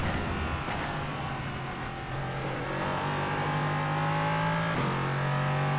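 An LMP3 race car engine drones steadily in iRacing, holding a loud, continuous pitch with gear changes and a rising rev near the end of the stretch.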